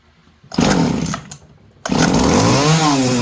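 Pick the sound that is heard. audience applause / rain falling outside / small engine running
small engine running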